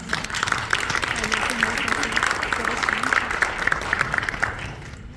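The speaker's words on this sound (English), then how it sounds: "let's give them a round of applause" A high school gathering applauds students with steady clapping from a crowd, while voices and cheering rise over it and the applause fades out at the end.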